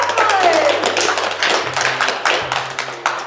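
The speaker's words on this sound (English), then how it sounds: "Round of applause for the loved ones." A small gathering applauds the loved ones at an evening event, steady close clapping from a modest group that tapers off gradually, with a brief voice at the start.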